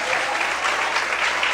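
Church congregation applauding during a sermon by Pastor Luciano Escala, a brief steady burst of dense clapping at close range with no pause.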